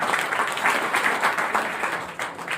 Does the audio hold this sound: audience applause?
yes